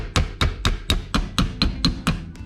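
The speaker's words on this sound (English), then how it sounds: "mini ball peen hammer. All I'm going to do is whack these risers down, make the area a bit flatter" A small ball peen hammer strikes raised risers on steel plate nine times in a steady rhythm, each blow a sharp, close metallic clank with a brief ring.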